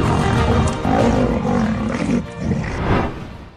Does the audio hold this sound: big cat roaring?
yes